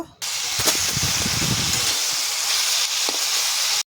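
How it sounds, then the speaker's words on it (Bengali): Potatoes and cauliflower frying in oil for a fish curry, a loud, close, continuous sizzling hiss that starts abruptly, softens slightly toward the end and cuts off sharply, with brief clatters and no talk. "আলু আর ফুলকপিটা লাল লাল করে ভেজে নেব"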